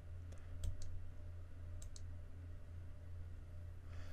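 A computer mouse clicks a few times at the start and again near the two-second mark while working in PRO NEST nesting software, sharp and close over a steady low hum, with no talking.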